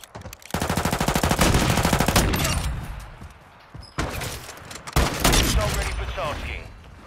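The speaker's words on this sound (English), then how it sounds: "Taking effective fire!" Rapid automatic gunfire in a military shooter video game, loud sustained bursts of machine-gun fire with short pauses and renewed volleys, mixed with game voices calling out.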